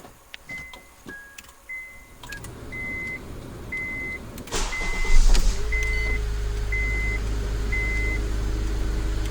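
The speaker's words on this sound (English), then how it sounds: "We're going to go ahead and we're going to start the vehicle." A 2008-2012 Honda Accord starting by Fortin remote starter: a series of short electronic beeps and clicks, then the engine cranks and settles into a steady idle hum, with no talk.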